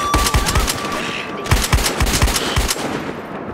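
Automatic weapons rattle off in the video game Battlefield Hardline, with two loud, rapid bursts of gunfire close up, separated by a brief gap.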